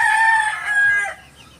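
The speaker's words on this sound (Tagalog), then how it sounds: "Mga binata na, tumitilaok na iba dyan mga idol eh." A young rooster crows once in a pen of growing breeder cockerels, a loud, close, strained call that trails off abruptly, with no talking over it.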